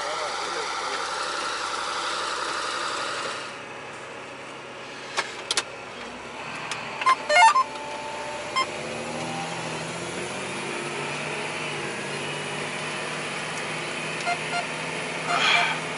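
A tractor engine idles with a steady low rumble inside the cab, then drops and shifts as it pulls away, with a few clunks and rattles. Someone speaks briefly.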